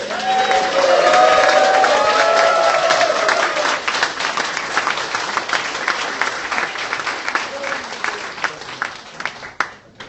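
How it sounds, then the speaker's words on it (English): Loud, dense applause from an award-ceremony audience at the 2016 Arthur C Clarke Award, a sustained wash of clapping that gradually thins toward scattered final claps. "Judges, a round of applause, please"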